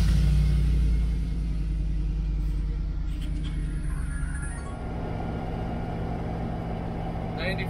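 A car engine turns over and settles into a steady low rumbling idle, running close and continuous after an initial louder burst, with no talk over it.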